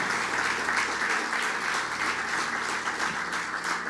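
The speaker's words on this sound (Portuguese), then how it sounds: "Vamos aplaudir o Senhor Jesus." A church congregation claps in sustained, dense applause, loud and continuous throughout, with no pauses.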